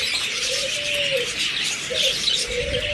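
Budgerigars at a bird farm make a constant chatter of high chirps and warbles, with a few clearer calls rising above the dense flock noise.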